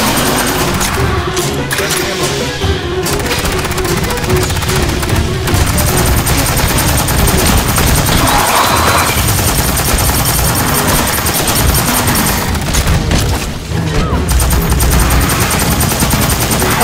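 Sustained automatic gunfire rattles through a horde-mode fight on the Terminal Containment map of the video game Aliens: Fireteam Elite. Dense, loud bursts mix with heavy booms throughout.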